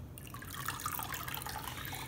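Whey draining from fresh mozzarella curds as they are poured through a colander set over a bowl, a steady close trickling and dripping of liquid with no one talking.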